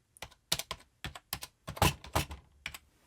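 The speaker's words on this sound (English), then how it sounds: "And then of course keyboards." A short run of computer keyboard keystrokes, about a dozen crisp clicks in uneven rhythm, close and clear with silence between.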